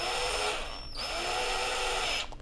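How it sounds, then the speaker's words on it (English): A cordless drill whirs steadily at high pitch, dipping briefly as the chuck tightens, then cuts off near the end. "I'm just going to insert this into the end of the drill and then go ahead and cinch it down."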